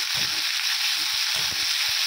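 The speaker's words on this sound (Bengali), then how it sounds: "তো ভালো করে লাল লাল করে ভেজে নিচ্ছি" Ginger, garlic and green chilli paste frying in a pan, a continuous bright sizzle up close with soft low stirring knocks and scrapes beneath, no talking.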